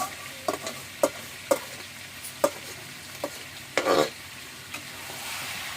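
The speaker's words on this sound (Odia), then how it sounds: "ଏଟା ମଟନ କଷିଆ ହେଲା" Mutton kasha frying in oil with turmeric and salt, with a soft steady sizzle broken by a string of sharp scraping stirs, one longer scrape near the end, close and without talk.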